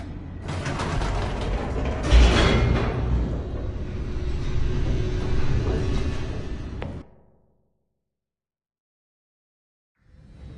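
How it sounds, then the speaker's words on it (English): Heavy mechanical grinding and rattling from an elevator descending in a video game, with clanking, creaking gears and ratchet-like clicks. It runs loud and steady for about seven seconds, then cuts off into silence. "The elevator raced downward"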